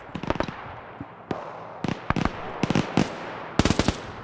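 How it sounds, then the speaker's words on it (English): Bursts of machine gun fire aimed at a vehicle in a WW2 video game, sharp rapid cracks in short clusters spread across a few seconds, loud and close. "They're firing at it with a machine gun."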